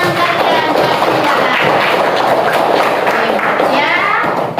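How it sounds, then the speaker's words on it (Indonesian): A classroom of students claps for a classmate, a dense, steady wash of applause that fills the whole stretch at close range, with faint children's voices mixed in. "beri aplaus dulu buat teman kalian"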